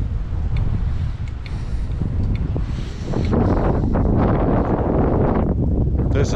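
Steady wind rumbles and buffets the microphone throughout, a loud, continuous low roar with gusty surges and no talking.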